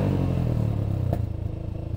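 A TVS Apache 160 2V fitted with an Akrapovic exhaust and DB killer revs up close and loud, its deep throaty growl pulsing in rapid bursts as the revs ease off toward the end.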